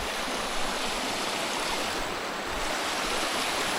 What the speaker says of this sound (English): But the river might be a bit noisy